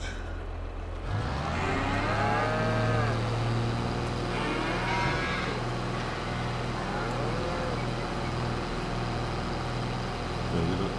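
Cows on a farm in a farming video game moo loudly and close, with long, drawn-out calls over a steady low engine-like hum and no talking.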